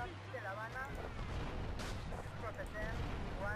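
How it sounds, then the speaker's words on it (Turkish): Explosions in GTA Vice City during a police chase, a few dull booms and crackling blasts mixed with game sounds, fairly faint, with someone talking over them. "şu patlamaların güzelliğine bak ya"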